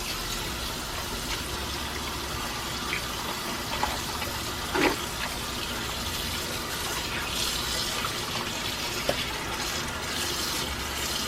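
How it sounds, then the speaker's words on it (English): Cold tap water pours and splashes over pork meat in a sink, a steady gushing hiss throughout with a few small clunks and knocks. "so now I'm going to rinse it with cold water."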